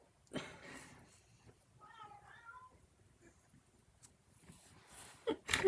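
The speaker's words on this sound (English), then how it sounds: "I don't know if you can hear the cats" Cats meow indoors at a low level, a few soft scattered cries in a quiet room with faint rustling and handling noises around them.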